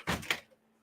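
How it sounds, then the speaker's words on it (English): A dog scratches at a door with two quick rasping scrapes close by, then stops, leaving a quiet room. "Who's scratching at my door, huh?"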